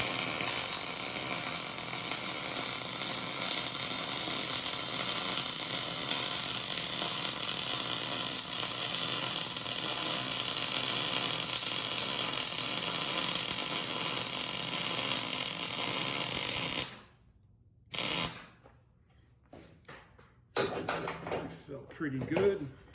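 A welder runs a horizontal 2F bead on a T joint with a steady, unbroken crackling hiss for about seventeen seconds. The sound then cuts off abruptly, followed by a few scattered clanks and handling noises.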